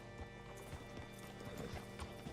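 Horse hooves clip-clopping at a steady walking pace in the video game Red Dead Redemption 2, close by, with a faint whinny and low background rumble.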